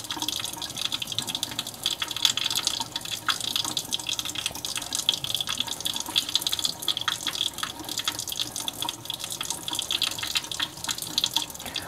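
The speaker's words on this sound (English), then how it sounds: "I like to add just a little bit of water at a time, just a little bit like that." Running water from a tap splashing onto hands being washed with ProSoap hand cleaner, a continuous close trickle and splash with no talking.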